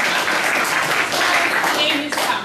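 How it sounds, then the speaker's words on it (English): An audience at a live radio theatre revue applauds a guest with steady, dense clapping that carries on throughout. "please give a round of applause to Valerie Amoshouse"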